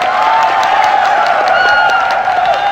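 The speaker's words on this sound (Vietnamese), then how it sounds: "chúng ta vỗ tay vì phần thi đấu đặc biệt của bạn Duyên nào" Steady, dense applause from a studio audience on a Vietnamese TV singing show, continuous clapping filling the room without a break.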